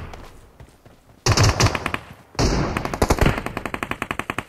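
Rapid automatic gunfire from a gun in the video game BGMI, with loud sustained bursts that break off and then return as a steady string of sharp, close shots, with no talking.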